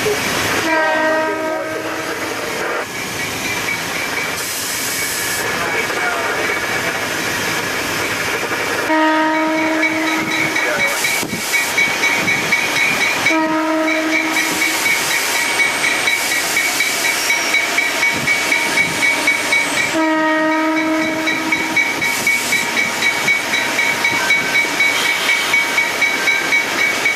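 An NJ Transit U34CH diesel locomotive sounds its horn in several loud, sustained blasts separated by short gaps, over a steady hissing, rumbling engine idle.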